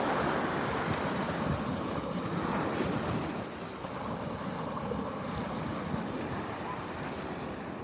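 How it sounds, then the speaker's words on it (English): Choppy ocean waves at a beach make a steady, broad rushing wash, mixed with heavy wind buffeting the microphone throughout and no clear voices. "Yeah, we got some choppy waves."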